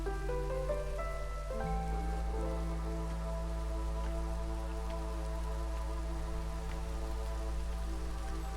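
Rain falls in the video game Against the Storm as a steady, soft patter of drops under sustained low tonal game music, continuous and even throughout, with no one talking.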